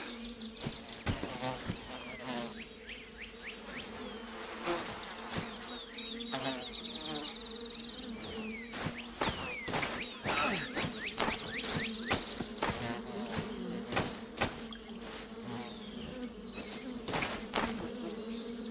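Swarming bees buzz densely around a hive in the video game The Vale, a continuous droning hum with many wingbeats passing close and loud throughout, alone without speech.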